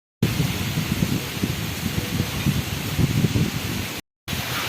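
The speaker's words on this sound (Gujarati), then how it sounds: "તો પવનની સ્પીડ અને વરસાદ પાછો વધી રહ્યો છે" Steady cyclone wind and rain over cotton fields roar together in a continuous, rushing wash of noise, with a brief silent gap near the end.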